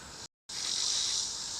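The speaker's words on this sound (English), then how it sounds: "these locusts or whatever it is making this racket" Locusts droning in the woods on a still late-August afternoon, a loud, continuous high-pitched buzzing chorus broken by one brief dropout of silence.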